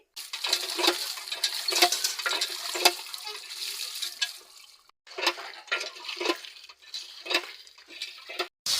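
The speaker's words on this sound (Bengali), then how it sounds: "দেখো আমার শাকগুলো কাটা হয়ে গেছে এবার আমি রান্নার জন্য ধুয়ে নিচ্ছি" Chopped red amaranth greens are swished and rinsed in a vessel of water, giving repeated splashing and sloshing surges that pause briefly midway before resuming, close and moderately loud with no talking.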